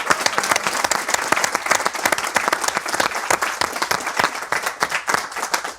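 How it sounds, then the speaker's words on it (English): Sustained live audience applause at a podcast recording in a London football shirt shop, dense steady clapping from a crowd filling the whole stretch, fairly close and loud throughout. "We'd love to give them another round of applause."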